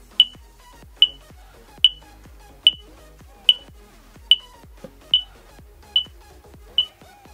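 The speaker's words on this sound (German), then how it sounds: "Dann fängt das Teil hier auch an zu piepen." Egardia smart home alarm unit giving a steady series of sharp, high electronic beeps, about one per second, each with a quick clicky attack, close and clear in an otherwise quiet room.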